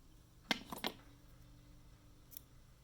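Scissors trimming rooster hackle for fly tying make two or three quick, close snips in a cluster, followed by near silence and a faint light tick.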